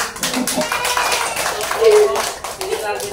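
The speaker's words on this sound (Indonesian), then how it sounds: "Kita berikan aplaus" Classroom applause for a student group, a short burst of brisk clapping lasting about three seconds while a teacher's voice carries over it.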